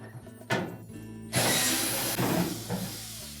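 Close mechanical clicks and a brief whirring buzz of a power screwdriver backing out screws below the lint filter of a Samsung dryer front panel, with scraping metal handling sounds around it.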